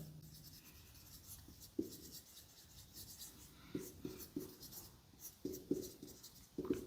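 Chalk or marker scratches across a classroom board in short strokes while a column is drawn, quiet and intermittent with small taps between lines.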